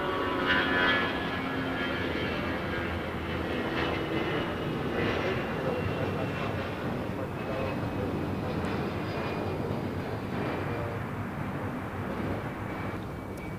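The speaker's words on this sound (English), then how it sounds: "2205 taking off to Dallas Fort Worth on an A320" Delta Airlines A320 jet taking off at LAX on the way to Dallas Fort Worth, a steady loud engine roar that holds throughout with no talk over it.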